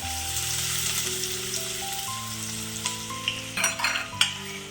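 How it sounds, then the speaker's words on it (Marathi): Chopped medium onion and cumin seeds with a half spoon of masala sizzle in hot oil for masala shev bhaji, a close, steady frying hiss under soft background music, broken near the end by a few sharp stirring clinks of a spoon. "आपलं तेल तपलेलं आहे मी त्याच्यामध्ये अर्धा चम्मच मसाल्याचा चम्मच अर्धा चम्मच जिरं टाकलेलं आहे मीडियम साईजचा कांदा टाकलेला आहे"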